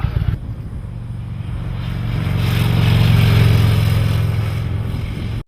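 A 2009 Harley-Davidson CVO Fat Bob motorcycle's engine rumbles nearby with a deep, throbbing low-end idle that swells louder toward the middle before easing off, alone without talk.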